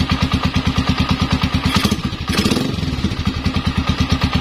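A three-year-old Suzuki TMX 125 Alpha motorcycle with its ASV removed idles close by, a steady, even run of low, rapid engine thumps that holds the whole time with no one talking.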